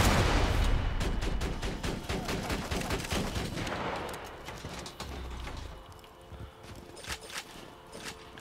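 Rapid turret fire in a shooter game, dense bursts of close shots that fade after about five seconds into sparser, quieter pops with a low hum underneath.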